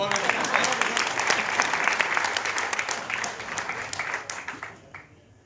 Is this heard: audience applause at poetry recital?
yes